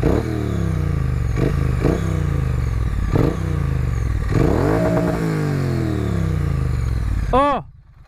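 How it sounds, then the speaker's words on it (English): A 2016 Triumph Street Twin motorcycle engine idles and is blipped several times, with rising revs and a final big rev that drops away, close and loud, with someone speaking over it. "Let's give it a bit of a brap."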